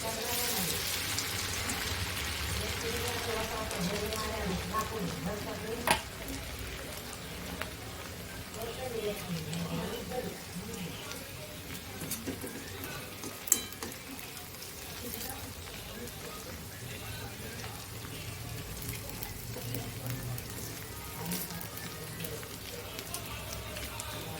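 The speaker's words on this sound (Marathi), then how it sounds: "तेल तापलेलं आहे आपले व्यवस्थित। आता आपण शेव पाडून घेऊ।" Rice sev dough fries in hot oil, giving a continuous soft sizzling hiss like steady rain, with occasional small pops and a voice talking faintly over it.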